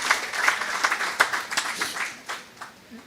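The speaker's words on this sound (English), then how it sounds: "Another round of applause, please." An audience gives a round of applause during an evening conversation event with the NITDA director general, a burst of clapping that is loud at first and then thins into scattered claps as it fades out.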